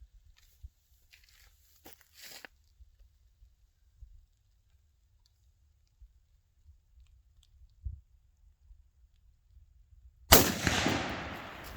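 A single loud, close rifle shot cracks out near the end while sighting in a Vortex Crossfire scope, after a quiet stretch of faint handling clicks and rustles.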